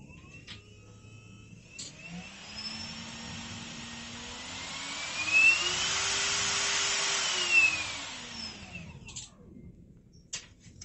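A small battery-powered electric motor whirs steadily for several seconds, its pitch gliding up and then back down, with a clear start and stop and no talking.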